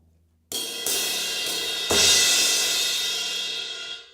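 A prototype Sabian HHX cymbal is struck several times, building into a bright, shimmering wash that sustains and slowly fades. It sounds close and has no talking over it.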